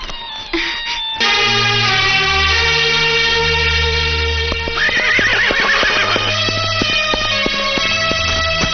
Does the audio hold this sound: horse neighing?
yes